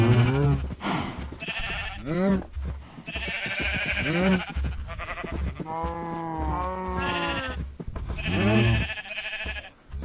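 Minecraft cows call out repeatedly in a series of drawn-out, wavering moos at close range, mixed in with bursts of casual talk.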